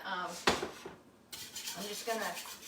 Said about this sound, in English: whisk this around just to make a thickening